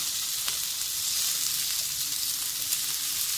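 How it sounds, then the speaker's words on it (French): Bacon lardons frying in a little olive oil in a pan, giving a steady, close, continuous sizzle and crackle with no talk. "dans une poêle, on va venir faire chauffer un peu d'huile d'olive. Donc on n'en met pas trop parce que les lardons, c'est déjà un peu gras à la base."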